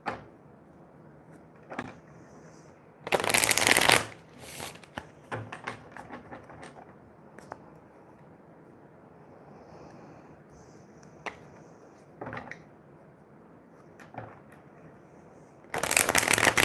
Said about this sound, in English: we will shuffle and get ready for Wendy's reading